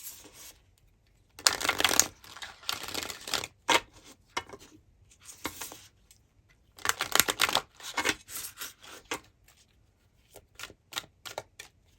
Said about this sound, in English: we're going to go ahead and shuffle out some cards as well